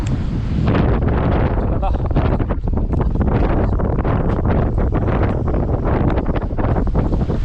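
Strong wind buffets a small fishing boat drifting on choppy Yellow Sea waves, a loud, steady roar of wind noise across the mic that masks the water and stays constant throughout.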